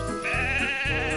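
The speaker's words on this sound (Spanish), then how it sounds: "Las ovejas han deambulado hasta las vías." Sheep near railway tracks in a Thomas and Friends cartoon give a loud, close, quavering bleat that wavers continuously for over a second, with no talking.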